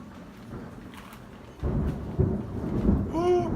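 A deep, rumbling peal of thunder rolls in during a storm, rising suddenly and lingering loud and close, with faint rain beneath and a brief whistling tone at the end.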